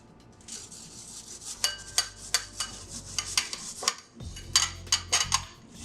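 Nagaimo yam grated on a small grater into a dish, a series of rhythmic scraping strokes, roughly a dozen close rasps in two bursts with a brief pause between.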